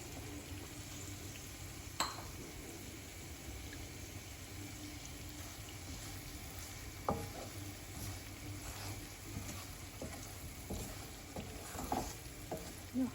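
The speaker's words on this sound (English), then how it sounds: "We have to fry this nicely." Ginger and chilies fry in a pan for pindi chana, giving a faint, steady sizzle with occasional clinks of a utensil against the pot.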